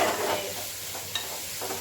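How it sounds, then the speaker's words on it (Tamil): Beans and other vegetables sizzle steadily in a hot pan, with a few scraping stirs of a utensil, close up. "இப்போ காய் கொஞ்சம் நல்லா வதங்கட்டும்"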